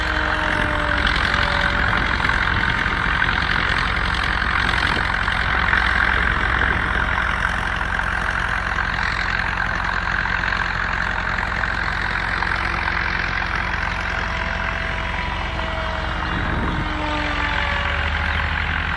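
X-UAV Mini Talon RC FPV plane in flight, a steady propeller and motor drone holding a nearly constant pitch throughout, with faint background noise and no talk.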